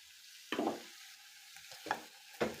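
Spices being stirred into frying onions for Kenyan kebabs, with a few distinct scraping strokes against the pan over a soft sizzle, close and moderately loud.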